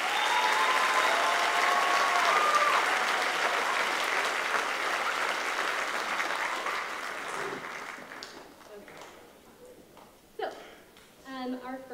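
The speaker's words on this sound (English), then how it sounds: "one more round of applause for all of the students" An audience at a high school choir finale applauds the choir students in a full, steady round of clapping that gradually thins and fades, with voices and a few scattered claps remaining at the end.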